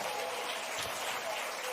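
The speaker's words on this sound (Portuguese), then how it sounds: "aplaudam a Jesus e dê glória a Deus de vitória." Church congregation applauding, a steady wash of many hands clapping throughout, moderately far and even.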